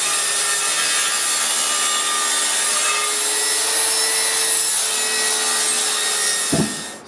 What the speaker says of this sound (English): So I'll measure up and start cutting the plywood.